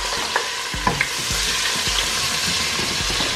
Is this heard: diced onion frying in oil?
yes